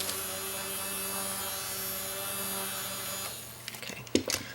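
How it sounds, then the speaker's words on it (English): A small portable fan whirs steadily with a constant hum while drying painted acrylic press-on nails, then cuts off near the end, leaving a few faint clicks and handling sounds close by. "just going to quickly dry it with my little portable fan here"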